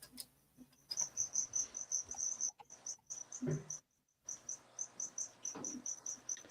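Crickets chirp in steady, rhythmic pulses, fairly faint and close, with a brief gap and a few soft incidental noises in a quiet room.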